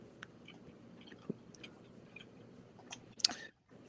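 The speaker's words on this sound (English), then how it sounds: "Could you chew right into the microphone?" Someone chews right into the microphone: quiet, close, wet smacking and crunching bites, irregular over a low room rumble, ending in a louder burst before cutting off.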